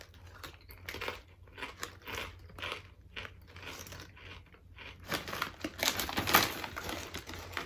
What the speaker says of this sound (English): these chips, they are very crunchy